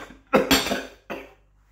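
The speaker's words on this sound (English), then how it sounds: "Sorry about the coughing. Vinegar keeps catching my throat." A man coughs from vinegar catching his throat while making Heinz-style burger sauce: two harsh coughs close together, then a third after a short pause, close and fairly loud.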